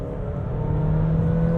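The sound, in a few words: Bestune T99 car accelerating in sport mode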